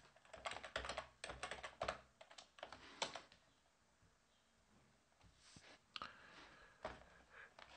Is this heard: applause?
no